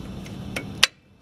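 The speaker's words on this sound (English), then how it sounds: "So I'm just installing the pads. Put it inside of the clips." Brake pads are fitted into the metal clips of a car brake caliper, giving a few close, sharp metallic clicks and taps; the final snap is the loudest, followed by quiet.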